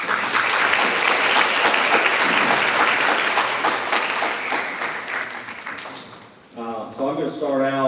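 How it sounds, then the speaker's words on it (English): Dense, loud applause from a banquet crowd at an athletics awards evening, steady clapping for about six seconds before it fades and a voice begins speaking. "So give everybody a round of applause"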